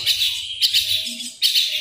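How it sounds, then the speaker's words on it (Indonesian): Loud, close chirps of a caged Javan myna in short bright bursts, with a brief pause between calls. "Tuh dalam kandang tuh ada 1 jalak."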